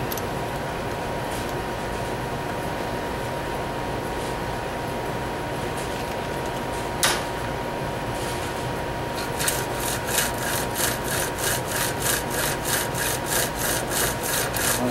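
A brand-new chainsaw chain drawn back and forth along the bar by hand, starting as a steady low rasp and turning into a quick run of regular metallic ratcheting strokes near the end, close and without any talk.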